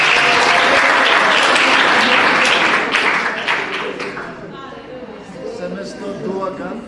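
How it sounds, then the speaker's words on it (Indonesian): Classroom applause from a group of students, a dense burst of clapping that fades after a few seconds as voices start to talk over the tail. "Dia, tepuk tangan."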